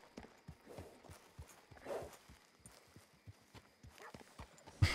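Horse hooves clip-clop at a walking pace in a Wild West video game, a steady run of crisp, moderately faint hoof strikes that ends in a sharp louder knock, with no talking.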